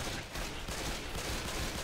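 Rapid, continuous gunfire from a sniper rifle in the video game Left 4 Dead 2, dense and loud throughout with no pauses between shots.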